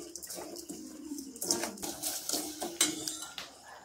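Sugar being stirred in a metal pan for caramel, with a spoon scraping and clinking against the pan in irregular strokes, close and moderately loud.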